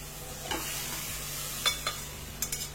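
Vegetables being stirred in a hot frying pan for dhaba-style pav bhaji, a steady soft sizzle with a few sharp scraping clinks of the spoon against the pan, close and fairly quiet, with no talking.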